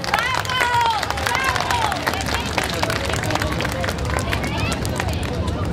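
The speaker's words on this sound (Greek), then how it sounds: "ας τον υποδεχτούμε με ένα χειροκρότημα" Audience at a Christmas celebration in Marousi applauding to welcome the mayor, a dense continuous wash of clapping mixed with crowd noise throughout.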